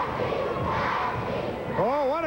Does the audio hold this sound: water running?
no